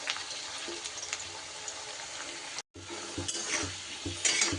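Potatoes frying in hot oil give a steady, close sizzle with occasional stirring clatter and a brief break partway through.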